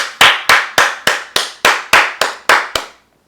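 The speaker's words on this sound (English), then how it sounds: "I'm going to give another hand clap for that one." Ten sharp, evenly spaced hand claps ring out loudly and alone, each with a short room echo, then stop.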